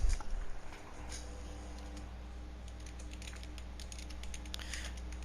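Keyboard typing in a Gran Turismo 7 racing setting, a steady patter of quick, light key clicks running throughout over a low constant background hum, close and moderately quiet.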